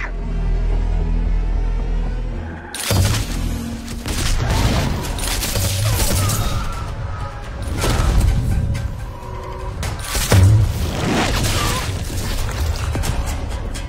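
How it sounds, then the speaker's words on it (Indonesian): Rapid bursts of gunfire crackle and boom in a chaotic shootout, with one gunman against a group, shots overlapping with heavy impacts over a low rumbling background. "aksi tembak-tembakan antara Muklis dan semua orang di sana pun terjadi"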